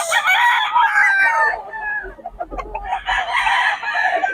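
Chickens cluck loudly close by, and a rooster crows over them. The birds quiet for a moment with some low thumps, then the clucking resumes.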